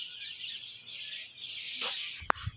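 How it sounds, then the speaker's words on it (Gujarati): Many birds chirp together in a rural village setting, a steady, fairly faint high twittering chorus running throughout, with a brief sharp knock near the end. "પડખે તમે કેટલા બધા પક્ષી બેઠા છે આમ કલરવની કેવું મસ્ત વાતાવરણ"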